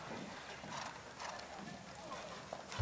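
A horse's hooves clip-clop on the show jumping course at the 2015 UIPM Senior World Championships in Berlin during the women's modern pentathlon riding phase. The hoofbeats are faint and rhythmic under a commentator's voice.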